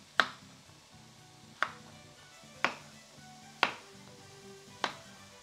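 Peeled potatoes being cut into large wedges give five sharp, evenly spaced knife chops on a board, roughly one per second, close and crisp over a faint steady background hum.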